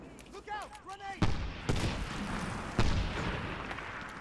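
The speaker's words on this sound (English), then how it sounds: "Look out, grenade!" A grenade going off in the Medal of Honor Warfighter multiplayer shooter, a loud blast among sharp gunfire bursts in a busy firefight, following a moment of voices calling out.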